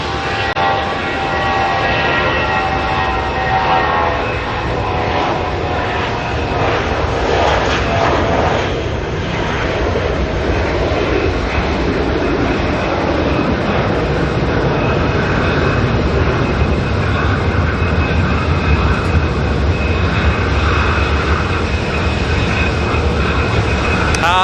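A Jetstar jet airliner's engines spin up behind the terminal at Auckland Airport, a loud, sustained roar that builds and holds steady, alone without talk.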